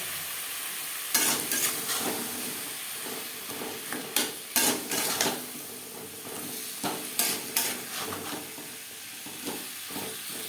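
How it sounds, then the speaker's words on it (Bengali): Cut potato pieces tossed into fried spices in a pan and stirred, with a soft hiss of frying beneath repeated scraping and clinking strokes of a spatula at an irregular pace, close and moderately quiet. "এবার দিয়ে দেবো টুকরো করে কেটে রাখা আলু"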